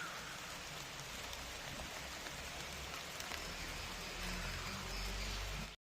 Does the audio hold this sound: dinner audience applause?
no